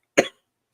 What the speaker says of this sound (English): Sorry if I cough your guys' ears off. I'm sick.